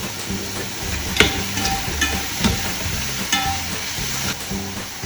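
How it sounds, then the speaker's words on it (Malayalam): Onions fry in ghee for mutton biryani with a steady, close sizzle, and a spoon stirs and scrapes the pan at intervals. "ഈ ഉള്ളി ഒരുപാട് നേരം വയറ്റണമെന്നില്ല"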